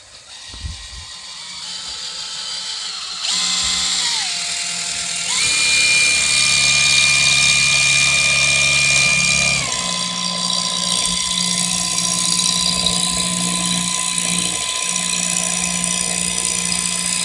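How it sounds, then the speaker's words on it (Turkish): An electric drill spins a pine wood arrow shaft, whining steadily and loudly with pitch shifts as the load and speed change, the motor tone stepping up and settling into a sustained close hum. "Şimdi bunu takıp makkaba bağlıyoruz. Makkapla çevirerek zaten şaftımızın çıktığını hep beraber göreceğiz."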